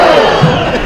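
Studio audience at a game show loudly shouting their vote together, a short burst of massed voices crying out at close range.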